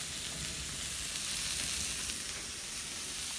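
Rice and salted fish fry in a pan over lowered gas, giving a steady, dense sizzle that holds evenly throughout, close and fairly loud, with no voices.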